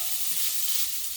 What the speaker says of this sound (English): I'll just sort of saute these until they stop sizzling so much.